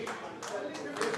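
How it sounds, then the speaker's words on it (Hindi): Applause breaks out for a lottery draw winner at a residential project land draw, a dense wash of clapping in bursts of varying strength with voices talking underneath. "तालियों स्वागत किया जा रहा है"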